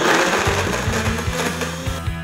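A blender whirs loudly and continuously while blending tomatoes into tomato sauce, its motor pitch wavering rhythmically as the chunks churn, close up and with no talking.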